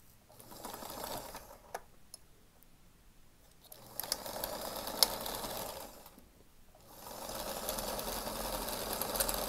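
Sewing machine stitching a fabric face mask in bursts, running steadily for a few seconds, pausing, then starting again; close and fairly loud mechanical whirring with no talking.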